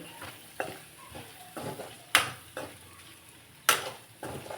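Chicken liver frying in a pan, with a soft sizzle under repeated scraping stir strokes and two sharp metallic clanks of a utensil against the pan, close and alone.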